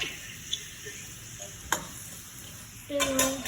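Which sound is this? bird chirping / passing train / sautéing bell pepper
sautéing bell pepper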